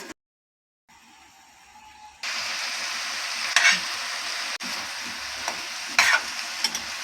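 Bottle gourd pieces with salt fry in oil in a pan over low heat, giving a steady close sizzle after a brief quiet start, with a few louder crackles and spatters.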